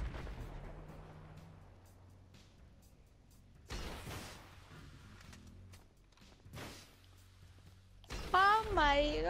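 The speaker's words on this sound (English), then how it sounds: "Oh, you're shooting like in the air." Gunfire and explosions from the GTA Online video game, a few heavy booming blasts spaced apart and then a louder burst at the end, under a player's voice chatter.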